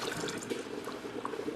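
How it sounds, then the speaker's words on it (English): Water pours into a jar holding sugar crystals while pickled beets are being prepared, a steady close trickling and filling sound lasting just over a second with no talking. "And I'll just pour the water in."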